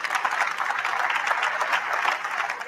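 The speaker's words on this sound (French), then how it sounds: "On peut les applaudir, ils nous épatent." Applause from an audience at a French heritage food event honouring young artisans, a steady dense patter of many hands clapping close by without pause, with no voices over it.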